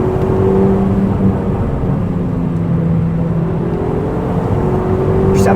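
A 2005 Audi TT Quattro Sport pulls hard from inside the cabin with a loud, steady engine drone whose pitch climbs and dips slightly, then rises again as it keeps accelerating.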